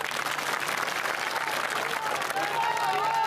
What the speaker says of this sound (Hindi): तालियां थोड़ी कम बजी।